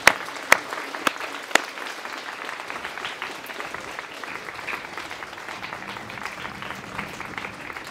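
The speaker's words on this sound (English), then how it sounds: "We're going to give you a round of applause from all your teachers." Sustained applause from teachers at a lower school prize-giving ceremony, a dense steady patter of many hands with a few sharp claps at the start, filling the room evenly throughout.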